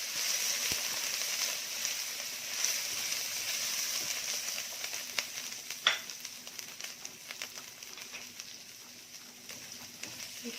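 Julienned onion sautéing with garlic and ginger for soy sauce noodles, a steady close sizzle and hiss with a few scraping stir sounds and a sharper crackle midway.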